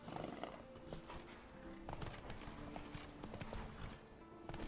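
Roach the horse galloping in a video game, hooves clip-clopping in a quick, steady rhythm, close and clear, with a brief snort or whinny at the start and no talk.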